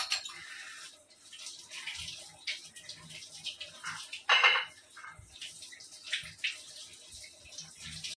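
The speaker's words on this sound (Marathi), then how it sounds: "कैरी चांगली स्वच्छ पाण्यात धुवून घ्यायची आहे" Raw mangoes are washed in clean water, with gentle splashing and trickling close by, a brief louder slosh midway among quieter rustles and drips.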